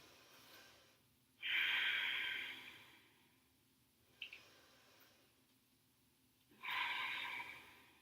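Deep breaths during a yoga pose: two long, strong exhales through the nose, close and clear, separated by a quieter inhale and a short sniff, in an otherwise quiet room.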